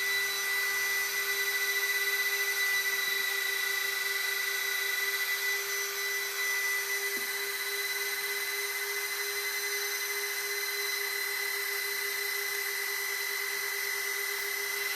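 A steady, high-pitched electric whine from an RC car motor, an Arrma Rival MT8, runs unbroken and loud throughout, with no pauses or speech.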